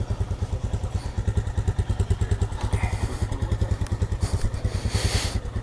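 A Royal Enfield Interceptor 650 motorcycle running on a demo ride, its engine throbbing in a loud, close, evenly pulsing rhythm of thumps that carries on steadily from start to finish.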